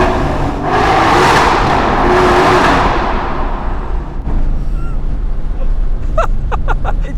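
A Chevrolet C8 Corvette Z06 with straight-piped exhaust revs loudly up close, a broad roaring burst that swells and then settles into a rumbling idle, with brief sharp crackles near the end.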